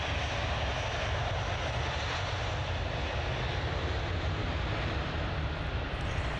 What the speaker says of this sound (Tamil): தொடர்ந்து நீங்கள் இந்த ஏர்பஸ் 380 என்ற விமானம் எப்படி பறப்பினை ஆரம்பிக்கின்றது என்பதை தொடர்ந்து பாருங்கள்